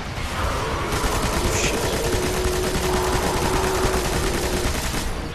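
Continuous automatic gunfire in Destiny: Rise of Iron as a player fires steadily at an ogre, a dense unbroken rattle of shots lasting the whole stretch at a constant loud level with no talk over it.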